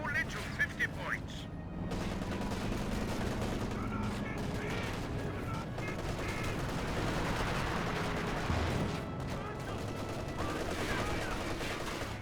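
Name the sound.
gunfire in video game Company of Heroes 2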